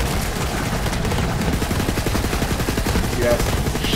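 Rapid automatic gunfire from Borderlands 3 during a fight with a large creature, dense steady bursts of shots running throughout at close range, with a voice faintly present underneath.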